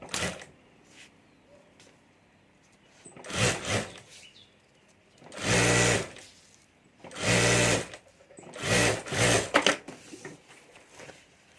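Sewing machine stitching a golden fabric strip onto a handmade party bag, several short loud bursts of motor whir separated by quiet pauses with faint handling noise.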